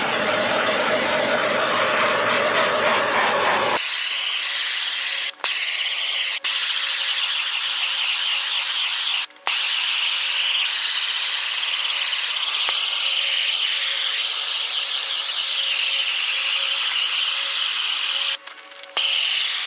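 A heat gun blows steadily as it shrinks plastic shrink wrap over a snowblower being prepped for storage. The airflow makes a loud, continuous hiss with a few brief dropouts.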